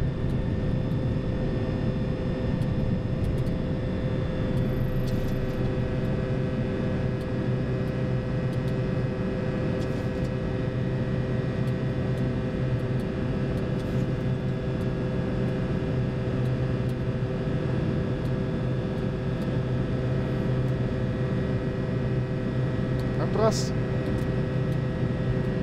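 Jet engines of a classic Boeing 737-200 Combi roar steadily during takeoff from Mirabel, heard from the cockpit as a loud, constant drone with a faint tonal whine and brief blips.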